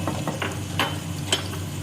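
Chopped tomatoes stirred into a pan with gently fried ginger and garlic for aloo gobi, with a few close scraping stirs and soft sizzling over a steady low hum.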